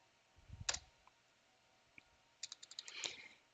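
Quiet typing on a computer keyboard, a short burst of clicks, a lone tap, then a second quick cluster of keystrokes, faint and close with no talking.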